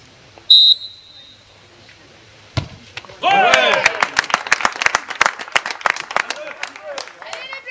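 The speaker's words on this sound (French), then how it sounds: "La foule en délire" A crowd at a French local sporting event breaks into cheering and applause, a burst of loud clapping and excited voices building after a sharp whistle and a few isolated knocks, with shouting voices over it.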